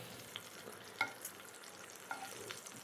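Bacon sizzles on a hot griddle with a quiet, steady crackle and a few light scraping clicks of a utensil, close by and without talk.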